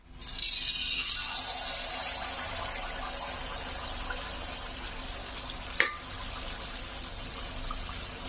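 Tel pitha, an oil cake, sizzles in hot oil with a steady, close hiss of frying that starts abruptly as the batter goes in and continues evenly, with a brief knock partway through.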